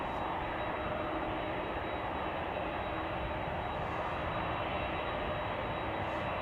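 An American Airlines Boeing 737-800 arriving at Chicago O'Hare from Puerto Vallarta gives a steady, unbroken engine roar that stays even and moderately distant throughout, with no voices.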